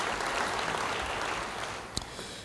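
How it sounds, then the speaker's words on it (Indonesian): A church congregation applauds during a sermon, a dense continuous wash of clapping at moderate level, easing slightly near the end, with one sharp knock or clap standing out late. "Yang mau beri tepuk tangan bagi dia"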